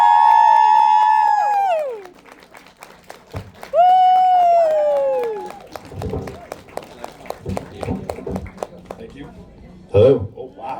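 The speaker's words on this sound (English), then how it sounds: "Please, let's give a round of applause and welcome our guest." A crowd at a Barnes and Noble book signing for Calahan Skogman claps and cheers in a dense, lively burst that follows a long sung or shouted vocal, with voices mixed in.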